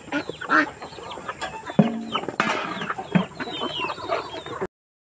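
Chickens and ducks gathered at feeding time, clucking busily and continuously at close range with occasional louder squawks and calls, and no talking.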